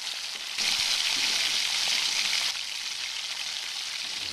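Onion, ginger and garlic sizzle steadily in hot oil as they are stirred, a dense continuous frying hiss that swells louder partway through and then eases slightly, with no voices.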